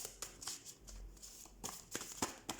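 A handmade tarot deck is shuffled in quick, soft riffling flurries, papery card slaps that come and go at a quiet, close level.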